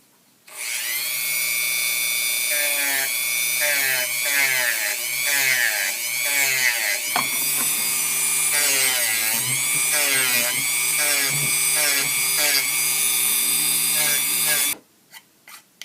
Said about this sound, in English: I can go ahead and put on a sanding bit.